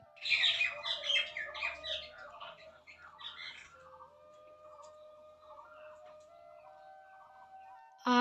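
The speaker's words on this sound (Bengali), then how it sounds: "আমাদের বাড়িতে পাখির সেই কিচিমিচি ডাক শুনতে বেশ ভালো লাগছে" Small birds chirp and squawk around a home in a lively burst of close calls that thins into scattered, fainter twittering, with a brief knock at the end.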